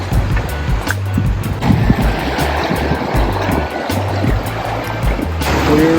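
A clear river in Leavenworth, Washington flows past a path through trees, a steady broadband rush of running water continuing without a break, with some low rumble from breeze.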